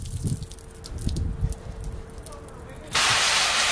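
Blind cleaner sprayed onto moldy window blinds, a sudden loud, close, steady hiss in the last second after quiet rustling and handling noises.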